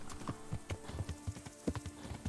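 Hooves clip-clop in a quick, steady rhythm as a warhorse is ridden in Kingdom Come Deliverance, each hoofbeat close and distinct, with no voices over the run of steps.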